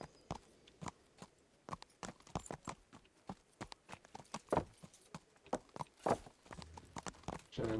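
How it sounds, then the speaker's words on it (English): Horse hooves clip-clop at a walking pace in the Kingdom Come Deliverance video game, with distinct, evenly spaced hoofbeats over a quiet background. "So we're gonna hop on my horse."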